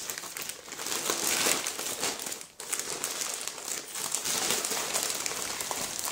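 Embroidery kits being unpacked from a plastic package, with steady close crinkling and rustling of wrapping throughout and a brief pause midway.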